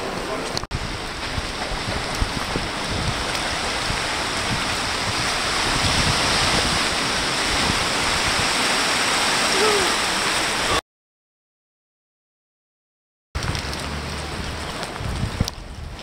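Seawater surges during coastal flooding in Youghal with a loud, continuous, wind-buffeted rush of churning water, broken by a brief total dropout before the roar resumes.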